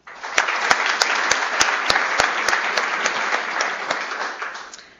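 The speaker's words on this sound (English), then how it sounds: "we'll clap in his absence" A medical department's awards-day audience claps for an absent resident, with a steady wash of hand claps and a few sharp, close individual claps standing out near the start before it gently tapers off.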